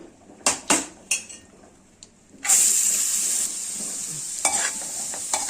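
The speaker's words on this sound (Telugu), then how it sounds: "ఇదిగోండి, ఉల్లిపాయ ముక్కలు అయితే వేస్తున్నాను" Onion pieces tipped into a hot pan for a dried-fish and egg curry start to fry. A few sharp clatters come first, then a loud, steady sizzle takes over, with light scraping and stirring over it and no talk.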